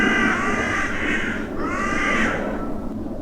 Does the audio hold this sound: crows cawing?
yes